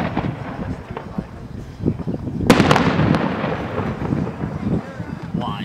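Fireworks at a fire truck rally in Digby, a loud burst of bangs and crackle erupting midway through, over steady crowd noise and nearby talk.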